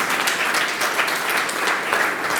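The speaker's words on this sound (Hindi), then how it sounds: "इसे एक जोरदार अपने लिए ताली बजाइए" Dense, steady clapping from an audience at a talk on the constitution continues without pause, evenly loud throughout.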